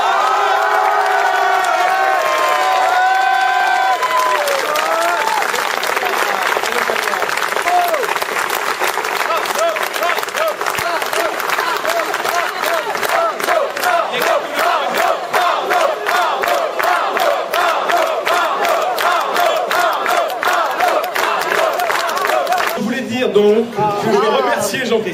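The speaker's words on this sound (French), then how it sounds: "Je voulais qu'on applaudisse très fort Arnaud Courson qui a remporté." A large crowd at an election victory party in Neuilly cheers, whoops and applauds loudly and continuously, a dense sustained roar with shouts rising through it before easing near the end.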